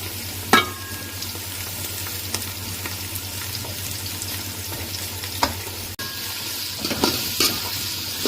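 Chopped onions fry in hot oil in a home kitchen pan, a continuous crackling sizzle broken by a few sharp scraping stirs and clanks of the spoon, close and fairly loud with no talking.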